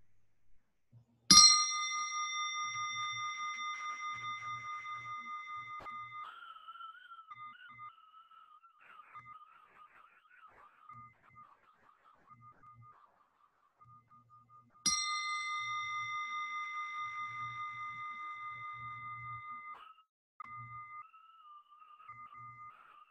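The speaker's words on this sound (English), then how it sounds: "Focus your mind to this bell sound and follow the sound" A meditation bell rings twice during an evening guided meditation, each strike a clear bright ring that sustains and slowly fades, about thirteen seconds apart, with faint low murmurs in the quiet between.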